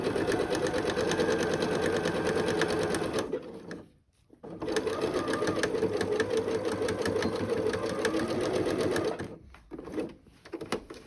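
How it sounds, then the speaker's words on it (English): Close sewing machine stitching ties onto a shaped fabric face mask with a backstitch: a steady, fast whir of stitching, a brief pause, a long second run, then a short stop and a few more stitches, with no talk. "so you just want to make sure you got some secure stitches there, including a backward stitch."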